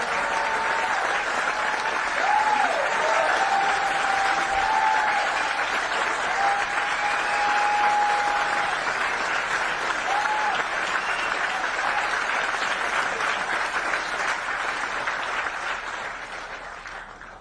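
Crowd applause at a political rally, sustained dense clapping from a large audience lasting well over fifteen seconds at a steady level before easing slightly at the end, with a faint tone or whistle rising above it briefly.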